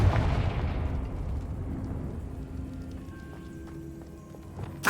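A Confringo fire spell bursts in the Hogwarts Legacy video game, a loud rumbling blast that slowly rolls away into a faint tail, with softer game sound effects chiming afterward and a fresh hit at the very end.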